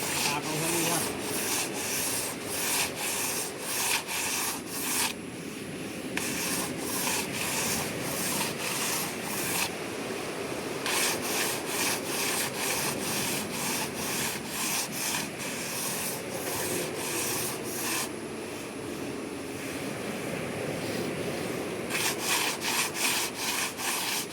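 Steady rhythmic back-and-forth rasping of sandpaper on a wet fiberglass boat hull, continuous and close, with brief pauses between runs of strokes.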